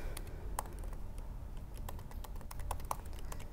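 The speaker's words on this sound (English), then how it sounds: "I forget how to type when I'm doing live coding" Quiet, close clicking of a computer keyboard during live coding at a tech talk, irregular bursts of keystrokes with short pauses between them.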